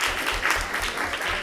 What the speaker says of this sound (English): Give yourselves a round of applause for coming.